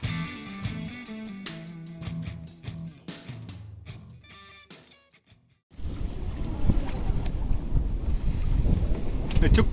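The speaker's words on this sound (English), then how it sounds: "now the wind is slowly dying. It's down to 10 knots." Wind gusting across a sailboat at sea as the breeze dies to about ten knots, preceded by rhythmic knocking and clanking aboard, then a sudden loud rush of wind noise buffeting the microphone.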